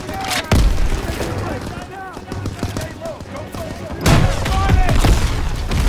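Heavy gunfire and explosions crash through a WWII battle in the Hürtgen Forest, 1944, in a video game: a big blast near the start and another around four seconds, with steady rifle fire and distant booms in between, all loud and dense.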